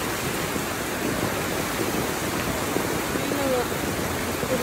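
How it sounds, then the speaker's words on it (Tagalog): Dense, steady hiss of heavy typhoon rain pours continuously, with faint murmuring voices buried underneath. "Lakas pa na ulan eh."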